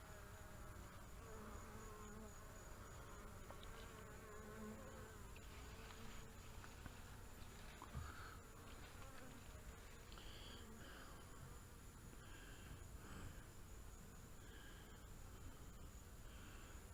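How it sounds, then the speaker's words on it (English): Faint, continuous buzzing of a bee swarm in a top bar hive, a dense droning hum that carries on steadily without any talking. "We have got a swarm of bees in the top bar."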